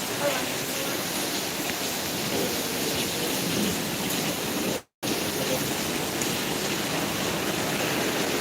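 Steady rain falls outdoors in Florida, a dense, even hiss that fills the whole stretch apart from one brief dropout near the middle.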